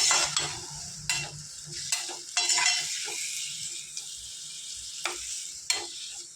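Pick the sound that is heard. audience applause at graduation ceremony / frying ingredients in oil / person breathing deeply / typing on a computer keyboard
frying ingredients in oil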